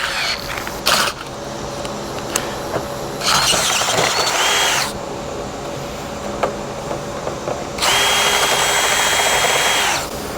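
A power drill drills metal in two long bursts with a high whine, separated by quieter mechanical creaking and clicks, close up, while modifying a Harbor Freight engine stand.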